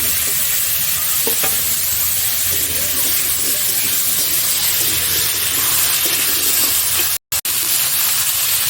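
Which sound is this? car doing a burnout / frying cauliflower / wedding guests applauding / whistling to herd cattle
frying cauliflower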